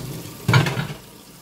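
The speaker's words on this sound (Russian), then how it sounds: "Воду сливаем" Water is poured off freshly washed vegetables in a kitchen sink while preparing Korean side dishes: one brief splashing gush that quickly tails off.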